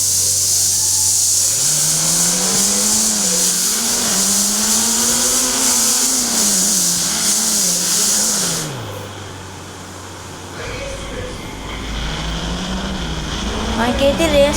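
A car races along a road, its engine droning and rising and falling in pitch as it accelerates, loud and close, before easing off and picking up again near the end.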